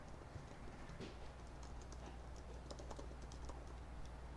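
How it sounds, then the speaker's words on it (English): Quick taps on a computer keyboard as a link is entered, a faint, close run of light clicks in an irregular rhythm lasting a few seconds. "type in the link that you want"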